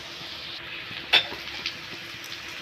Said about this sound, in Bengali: পেস্টটা ভাজা ভাজা করে নিয়েছি